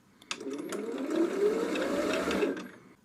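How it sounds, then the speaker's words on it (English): A Pfaff Ambition 610 sewing machine winding a bobbin: a steady motor whine rising in pitch as it speeds up for about two seconds, then winding down, preceded by a few soft mechanical clicks. "Just start-stop button again, and you're winding a bobbin."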